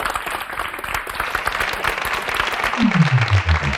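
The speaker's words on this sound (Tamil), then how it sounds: "அவங்களுக்காக ஒரு கைத்தட்டலை நாங்கள் நாடுகிறோம்" Steady crowd applause with many hands clapping, joined near the end by a sliding low tone.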